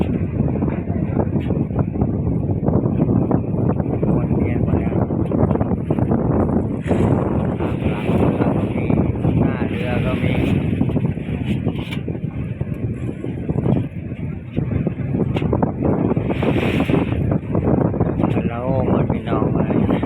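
Strong wind roars and buffets hard against the microphone in a loud, continuous rush that rises and falls in gusts for the whole stretch, with no pauses.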